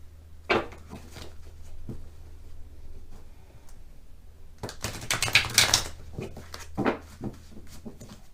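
Tarot cards are shuffled in soft, papery bursts of riffling and tapping, with a louder flurry of shuffling toward the middle, over a low steady hum.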